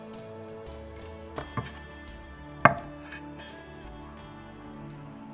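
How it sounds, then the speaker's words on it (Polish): A knife cuts through a whole melon on a board, giving a few soft thuds and one sharp crunch as the blade splits it in half, alone in a quiet room. "Po pierwsze, kroimy melon na pół."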